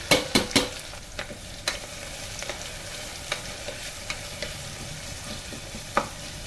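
Onions and green chillies fry in a pan with cumin seeds and curry leaves, a steady soft sizzle broken by several sharp stirring clicks, loudest near the start and fading to occasional taps.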